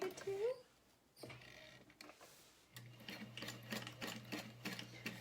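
Sewing machine stitching a tote bag, running in a steady mechanical chatter after short stops and starts, close by, with a voice talking over the start.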